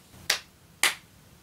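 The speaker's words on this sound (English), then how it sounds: "I got clap sync!" Two sharp hand claps about half a second apart, close and loud, made to sync two cameras before an unboxing, with quiet room tone between them.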